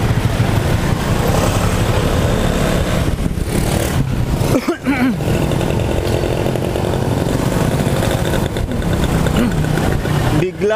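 A Vespa Sprint 150 scooter engine runs continuously during a short ride, a loud, steady buzzing drone with a brief dip midway, and someone talks over it.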